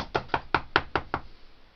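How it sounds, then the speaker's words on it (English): Six evenly spaced, sharp knocks on a door, close and fairly loud, followed by quiet. "There was a knock at the door."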